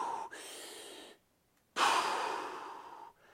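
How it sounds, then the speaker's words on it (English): A deep breath taken close to the microphone, a sustained airy inhale followed after a short pause by a longer, louder exhale that trails off; no talking. "So take a deep breath."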